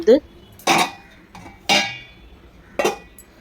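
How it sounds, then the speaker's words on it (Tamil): A metal lid set on a pot of fish curry with mango, a few sharp clanks and rattles spaced apart, close and fairly loud, the pot otherwise quiet. "மூடி போட்டு மூடுறேன்"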